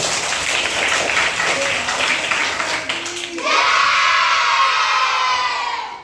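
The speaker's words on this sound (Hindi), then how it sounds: "ताली हो जाइए" A crowd of children in a classroom bursts into loud, rapid clapping and cheering after some excited shouting, sustained for several seconds.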